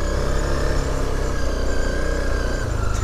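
A pit bike engine drones steadily nearby outdoors, a continuous buzzing hum with slight fluctuations and no talk.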